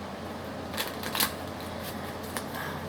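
Tarot cards being shuffled by hand, with a few quick papery riffles and flicks over a steady background hiss, close-up and fairly soft, no talking.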